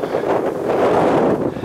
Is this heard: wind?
yes